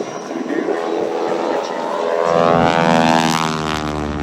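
A propeller plane drones loudly overhead, its engine rising and thickening as it passes close, with a steady buzzing hum throughout.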